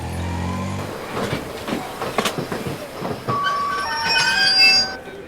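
A train rolls past at a railway station with rumbling wheels and rhythmic clacks, then high metallic squeals rise toward the end.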